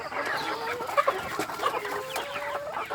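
Laying hens on a Thai egg farm flock of about 130 birds cluck and chatter close by, overlapping short calls with a few louder squawks, no talking.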